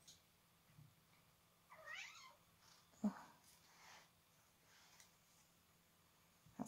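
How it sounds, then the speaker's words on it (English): A cat in an art studio gives a couple of faint meows, one rising and wavering and a short one a second later, in an otherwise quiet room. "It's my cat. I don't know if you can hear her."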